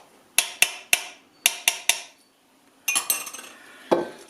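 A metal spoon clinks sharply against a bowl holding a bread flour mixture, six bright taps in two quick bursts, then a pause and a busier rattle of scraping clinks, close and clear with no talk.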